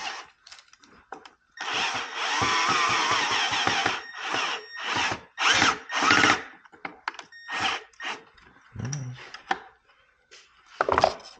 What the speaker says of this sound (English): For purposes of the video, we're just going to use the drill where we can.